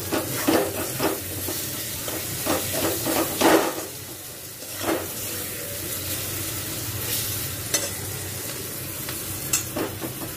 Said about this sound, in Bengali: তারপর এটা কষবো যতক্ষণ না টমেটোটা গলা গলা হয়ে যায়